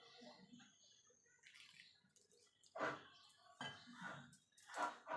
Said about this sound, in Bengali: এইভাবে জল দিয়ে একটা ডো রেডি করে নেব।